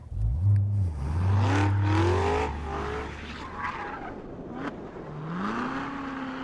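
A 2016 Chevrolet Corvette Z06 revs hard while lapping a racetrack, its loud engine note climbing and dropping through gear changes and corners, with tire squeal in a sustained, close, continuous run.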